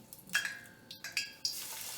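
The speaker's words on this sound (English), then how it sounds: "It's sizzling. Let me lower the heat." Steady hiss of food sizzling in a hot pan, with a few sharp crackles and pops breaking through the constant frying noise.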